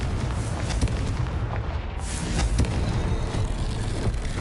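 Confringo spell explosion in Hogwarts Legacy, a loud sustained rumbling blast with dense crackling roar and a couple of sharper bursts layered over continuous low booming.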